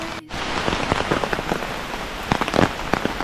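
Steady heavy rain pours in the Smoky Mountains of Tennessee, a dense close hiss with scattered louder drips and splashes throughout, no voices.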